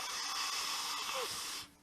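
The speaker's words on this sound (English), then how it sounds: "let me blow my nose one last time here" A close, forceful nose blow by someone with a cold gives a sustained hissing rush of air that lasts over a second and a half, then stops abruptly.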